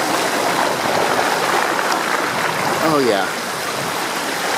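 Rough river water rushes in a loud, continuous broadband roar, as if heard from a boat in the current, while a voice briefly exclaims partway through.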